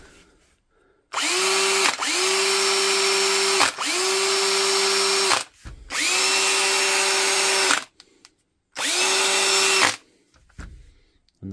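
A DeWalt cordless drill converted to run on a Milwaukee M18 battery whirs loudly up close in four sustained bursts of a few seconds each, separated by short pauses of silence.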